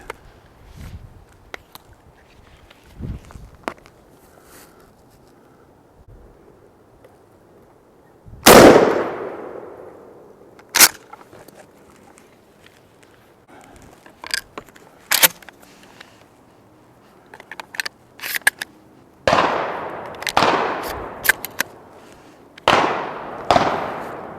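Outdoors, a turkey hunting shotgun fitted with a red dot sight fires several loud, sharp single shots spaced seconds apart, with handling clicks and footsteps between them.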